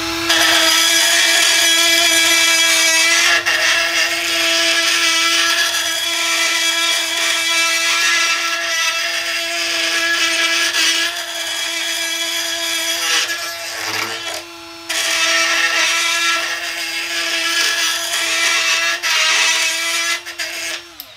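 A Milwaukee 2486-20 brushless straight die grinder, a three-speed tool, runs steadily and loud for the whole stretch with a high, constant whine, dipping briefly once and never bogging down.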